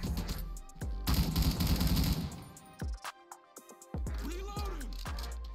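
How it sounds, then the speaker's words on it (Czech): Gunfire inside a building in the GTA V video game, with sharp repeated shots and a dense burst of automatic fire, followed by a quieter stretch and more scattered shots. "Dispatch, střelba v budově,"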